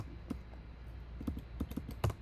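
Keystrokes on a computer keyboard while setting up a C++ test, a quiet, irregular run of soft clicks with a few heavier taps near the end.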